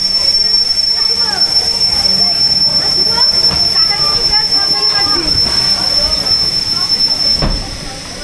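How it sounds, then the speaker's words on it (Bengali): Howrah–Puri Superfast Express (12837) pulls in at a station platform, wheels grinding and squealing on the rails in a loud, steady rumble, with a high whine running throughout and crowd noise underneath. "এই M2 সামনে চলে এসছে, ট্রেন চলে এসছে"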